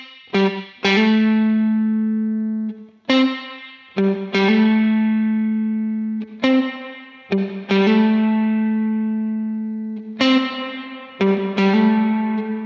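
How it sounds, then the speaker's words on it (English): An electric guitar plays strummed and picked chords through a Line 6 Helix dynamic plate reverb. Each chord rings out clearly with a bright reverb tail, and the low end falls away quickly between the separate chord hits. "You can hear the high end part of the reverb, but the low end is sucked right out of it."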